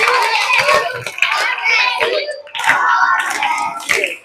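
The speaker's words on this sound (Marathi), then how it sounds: "तिच्यासाठी आधी टाळ्या वाजूया" Children and adults clapping hands together in a room, several bursts of quick, close applause mixed with excited voices and chatter.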